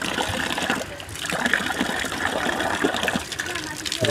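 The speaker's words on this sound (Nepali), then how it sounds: "यो ढुङ्गे धारामा पानी सुरु भइसकेको छ" Filtered water pours steadily from a stone spout tap, a continuous splashing rush close by, with faint voices mixed into the noisy flow.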